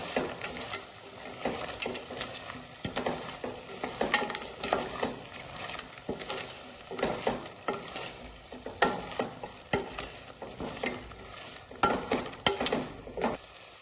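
Crab masala sizzling in a pan while garam masala and pepper are stirred in, with repeated scraping strokes of a spoon against the pan over a steady fry, no voices.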